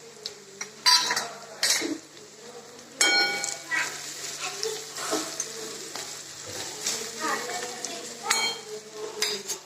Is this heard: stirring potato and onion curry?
yes